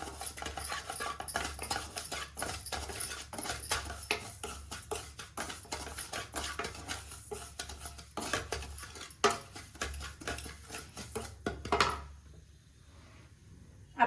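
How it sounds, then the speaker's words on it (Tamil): A spoon scrapes and clinks against a pan as semolina (rava) is stirred while roasting for sweet paniyaram, a busy run of close metallic taps and scrapes that trails off near the end. "ரவை இப்படி வறுத்து போடுறதுனால பணியாரம் நல்லா டேஸ்ட்டாக இருக்குதுங்க அதுக்காக நம்ம வறுக்க போகிறோம்"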